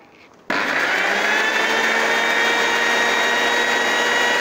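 A kitchen blender switches on abruptly and runs at a loud, steady whine, grinding salt and sugar at the start of a mayonnaise batch.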